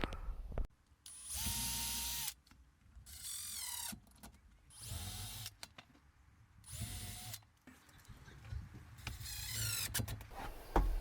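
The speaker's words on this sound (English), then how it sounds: "I'm going to pre-drill these holes though, because I do not want to crack these little pieces of cedar" A power drill pre-drills holes in small cedar pieces during a Ford E350 van ceiling panel build, heard as several short whirring bursts that rise and stop, separated by brief pauses, close up and with no talk.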